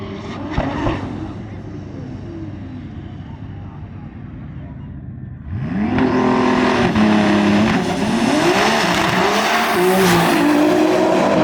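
A 2000-horsepower drag-racing car at around 190 mph, a loud engine roar with rising and falling revs that swells sharply about halfway, over a speaking voice.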